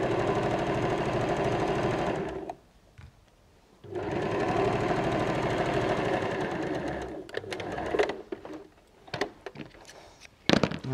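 Sewing machine running in steady bursts while stitching the seam of a fabric knot strap bag, a continuous whirring drone that pauses briefly, resumes, then breaks into short stop-start runs near the end.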